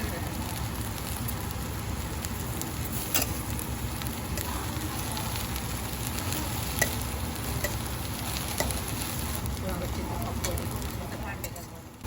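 Mint and several other leaves fry steadily in a pan for chutney, a continuous close sizzle and crackle lasting throughout with faint scattered pops.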